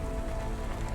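Rain falls in a video game, a steady dense hiss of drops on surfaces with no gaps and no voices over it.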